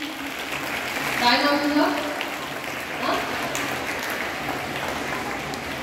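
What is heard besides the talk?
children applauding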